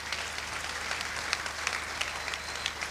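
Audience applause at a stand-up comedy show, a steady dense wash of many hands clapping at moderate distance with no voices on top, holding even for about three seconds.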